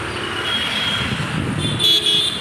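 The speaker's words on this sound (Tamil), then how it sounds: "நிறைய ஹாரன் சவுண்டெல்லாம் நிறைய கேட்குது." Car horns toot in Chennai traffic, a sustained honk followed by a louder, closer blast near the end, over a steady roar of road noise.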